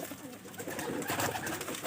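Pigeons from a hobbyist's loft of large birds cooing in a continuous, moderately loud murmur of overlapping calls, close by, with no talk.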